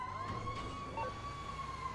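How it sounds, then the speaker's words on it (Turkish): An ambulance siren wails in the video game GTA 5, a steady high tone held over a low engine and traffic rumble, moderately distant and fairly faint. "Ambulans geliyor şimdi arkadaşlar."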